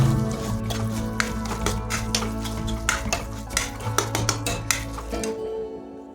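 Mustard paste being stirred with hot fish-frying oil in a wok, metal spatula scraping and knocking in an uneven rhythm over a continuous sizzle, close and fairly loud, ending abruptly.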